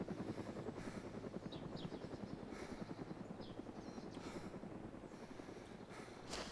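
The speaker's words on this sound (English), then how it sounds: "Three helicopters." A helicopter flies nearby in the DayZ video game, its rotor beating in a fast, steady chop that stays loud and constant throughout, with no voices.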